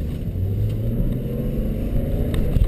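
A manual car's engine runs low and steady up close, with a light rise in revs as it pulls away in first gear.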